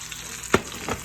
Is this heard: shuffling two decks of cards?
no